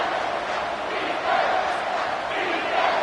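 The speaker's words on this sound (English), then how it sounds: "this crowd is bringing down the house" A packed football stadium crowd at a Notre Dame versus Michigan game roars in a sustained, dense wall of cheering and shouting, swelling slightly toward the end.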